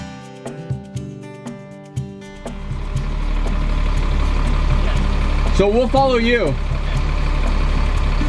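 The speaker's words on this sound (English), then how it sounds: "That's a loud bus." A loud bus engine idles in a steady, heavy rumble that kicks in a few seconds in after some knocking sounds, while people talk over it.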